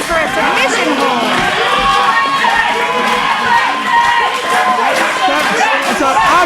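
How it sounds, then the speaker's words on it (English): Dense wrestling crowd at a Wrestler's Lab event, a steady loud roar of voices, shouts and cheers that holds throughout without a break. "The crowd chanting for him to get a tap-out victory over Perkins as he's getting him down."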